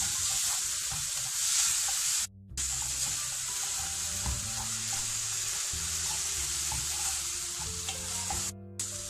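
Tomatoes, vegetables and spices for pav bhaji fry in a pan, a loud steady sizzle with repeated spatula scrapes and knocks, briefly dropping out twice.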